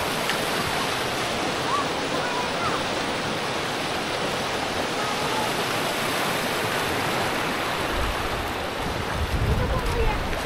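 Pressurized water rushes through a cave, a dense continuous roar filling the space at steady loudness, with a slight low surge near the end and no clear talking.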